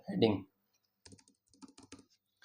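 Code is typed on a computer keyboard in short bursts of quick, light key clicks, heard close and quiet after a brief spoken word at the start.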